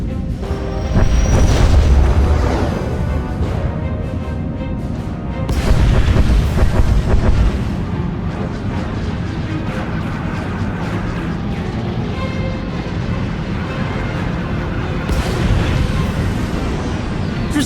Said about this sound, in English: Proceeding with bombardment, targeting infrastructure and industrial objectives only.